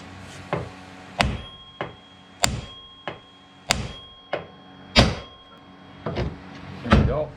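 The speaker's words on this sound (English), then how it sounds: "Now we can go ahead and give this knuckle a smack to pop out the outer tie rod end." Hammer blows against the steering knuckle of a Kubota BX tractor, knocking the outer tie rod end loose from the front axle: about nine sharp metallic smacks in a steady rhythm, loud and close, with bright ringing tails.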